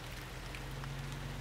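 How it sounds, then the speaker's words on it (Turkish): Steady rain pattering down in a cartoon about heavy-equipment vehicles, a soft, even wash of drops under a low hum, with no voices. "Ve şimdi de yağmur başladı."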